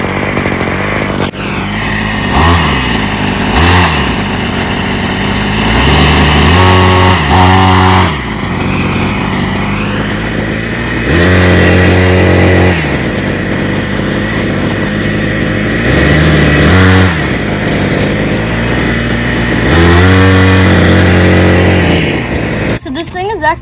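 A Ryobi lawn edger attachment runs loud and close, its small engine revving up and down repeatedly in surging bursts, with brief stretches of talk underneath.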